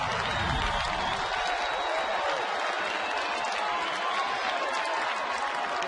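Ballpark crowd cheering and applauding as the Bruins win, a dense, steady roar of clapping and voices that fills the space without pause.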